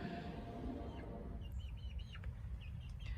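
Hens and chicks in a henhouse sheltering from rain, with soft scattered clucks and chirps over a low rumbling background.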